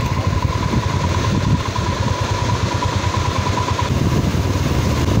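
A motorcycle engine runs with a rough, rattling, uneven throb on a wet, muddy mountain road in North Sikkim, loud and close, with a steady sustained tone and no talking.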